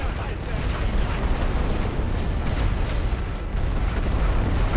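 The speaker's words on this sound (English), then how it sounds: "Let's get some of my artillery firing." Artillery fires in The Great War: Western Front, a dense rumble of booms and blasts that rolls on continuously with a voice talking over it.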